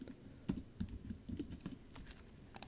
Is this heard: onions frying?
no